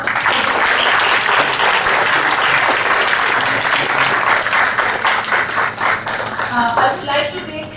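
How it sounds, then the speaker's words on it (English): Loud, sustained applause from a large crowd at an English debate competition, dense clapping that holds steady, then thins out and fades toward the end. "A big round of applause."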